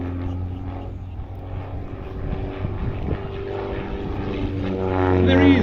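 A Pitts aerobatic display aircraft passes at an airshow, its propeller engine droning steadily and swelling louder toward the end, with commentary faintly underneath.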